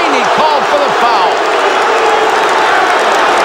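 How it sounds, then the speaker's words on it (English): A crowd at a 1992 Indiana vs Ohio State college basketball game in an arena cheers in a loud, sustained roar that fills the whole stretch. Voices and whistles rise within the noise. "That got the crowd on its feet"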